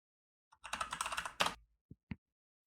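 A file name is typed on a computer keyboard in a quiet room, with a quick run of soft key clicks, a firmer keystroke at the end and two isolated taps after it.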